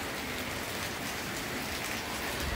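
Heavy rain pours steadily outside a balcony, a dense, even hiss of drops on surfaces with no voices, moderately distant.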